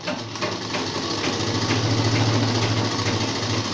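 A sewing machine stitching a seam on a ladies' trouser, a steady close mechanical hum and whir running without a break, with no talking.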